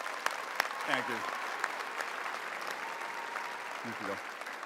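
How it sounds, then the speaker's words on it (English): Applause at a graduation ceremony as a graduate's name is read, a steady, fairly quiet patter of clapping from the audience, with a voice speaking over it. "Please, big round of applause."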